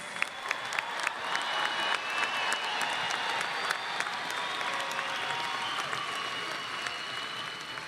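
A large commencement crowd at Grand Valley State University applauds its graduates, a broad, distant-sounding wash of clapping with sharp individual claps and faint cheers, sustained evenly throughout.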